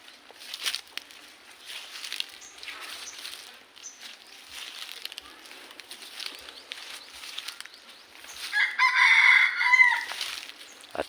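A red junglefowl rooster kept as a breeder clucks softly in the background, then gives a loud, clear crow near the end.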